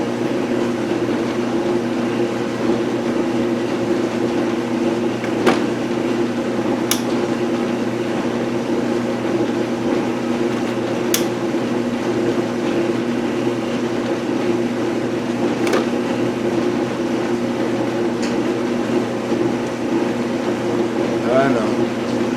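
A lathe cuts a plunge thread, the tool fed straight in without the compound; a steady machine hum and whir runs throughout with a few faint ticks and clicks, and speech from the operator is heard over it.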